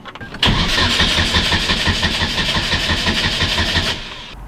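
Hyundai Genesis Coupe, just fitted with a relocated battery, cranks briefly and fires on the first try, then settles into a loud, steady idle close by. The idle fades slightly before a drop near the end.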